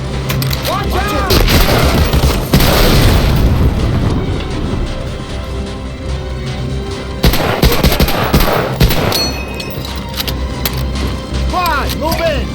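Sustained gunfire from the Medal of Honor Allied Assault video game, with rapid machine-gun bursts and booming shots filling the whole stretch, loud and continuous, while voices shout in the background.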